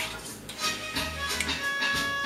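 Augustus Pablo's smooth reggae jazz playing in a kitchen during cooking, with a steady bass line and a bright sustained melodic tone, mid-level and continuous, with light clicks and taps over it.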